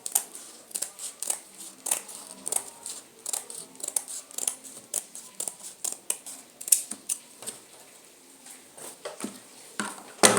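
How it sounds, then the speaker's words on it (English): Scissors snip through paper in a quick, uneven series of crisp cuts, close up and fairly loud, with no voices. "Cut out the shape with your scissors."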